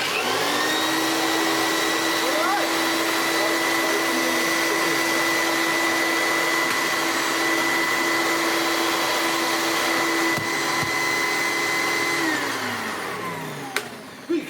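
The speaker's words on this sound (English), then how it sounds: "now use this to clean out the robot vacuums" A Philips U800 vacuum cleaner runs close and loud with a steady whining motor drone that holds for most of the stretch, then winds down and stops near the end.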